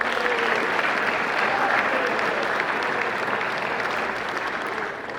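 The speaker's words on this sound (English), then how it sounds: "Big round of applause for our senior class" A large audience at a football awards ceremony applauds steadily for a senior class, dense continuous clapping at an even level that tapers slightly toward the end.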